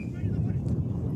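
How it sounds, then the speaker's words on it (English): Strong wind gusting outdoors at an ice rink during a curling match between Bermuda and Italy, a loud continuous low rumble of wind buffeting the microphone throughout. "Still very windy, sustained winds of 20 miles an hour, gusts up to 30."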